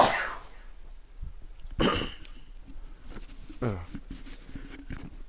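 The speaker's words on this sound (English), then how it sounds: "excuse the fuck out of me for those sneezes" A person sneezing a couple of times close to the microphone, sharp bursts separated by a couple of seconds, with muffled background noise in between.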